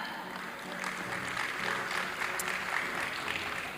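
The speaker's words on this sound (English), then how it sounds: "Please, a round of applause for her." Audience at a Miss Universe Nigeria pageant claps steadily for a judge being introduced, an even, moderately loud patter of applause with light cheering throughout.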